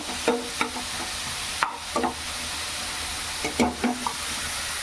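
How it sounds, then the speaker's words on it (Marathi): Ghee sizzles steadily in a pan while carrot kheer is prepared, a soft continuous frying hiss broken by a few light stirring clinks and scrapes, close and fairly quiet, with no talking. "हे बघा व्यवस्थित आपला तूप लागलाय"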